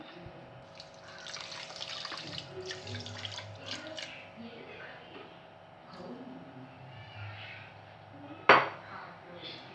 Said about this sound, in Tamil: ஜீனி முங்குற அளவுக்கு தண்ணீர் விட்டுக்குருவோம்.